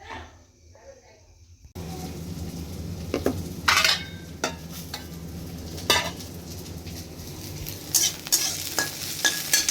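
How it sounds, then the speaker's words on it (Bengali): Okra (bhindi) frying in a pan in a home kitchen, a soft steady sizzle with scattered utensil scrapes and clinks after a quiet start, moderately close. "এখানে একটু ভেন্ডি ভেজে দেবো"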